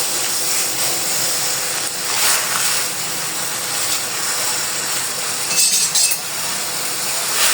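Water coming to a rolling boil in a pot on the stove for cooking noodles, giving a steady hissing, bubbling rush with small irregular pops, close and fairly loud with no talk.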